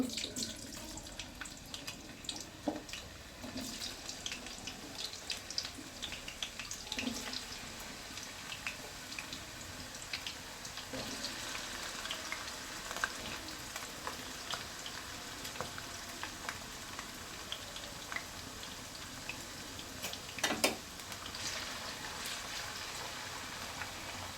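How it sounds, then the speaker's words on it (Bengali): Chopped potatoes sizzle in hot oil in a pan, a steady faint crackling hiss running throughout with occasional sharper pops and no talk. "তেলটা আমার গরম হয়ে গেছে, এখন আমি আলু কুচিগুলো দিয়ে দিব।"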